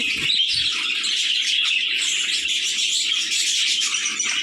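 Pet foreign birds kept at home chirp and tweet continuously in a dense, steady chorus of high, overlapping calls, close by and fairly loud, with no talking.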